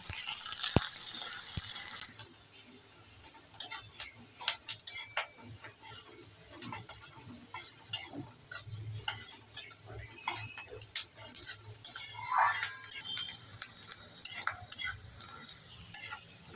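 Chopped onions with black cumin seeds being stirred and fried in a pan for Bengali aloo posto, with soft sizzling and irregular clinks and scrapes of a utensil, close by and moderately quiet.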